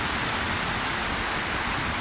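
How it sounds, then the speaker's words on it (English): Heavy rain pours steadily during a summer thunderstorm in Fort Worth, Texas, a dense, continuous hiss of falling water on surfaces that stays loud and unbroken throughout, with no voices. "Hot summers and bad rain, thunderstorms."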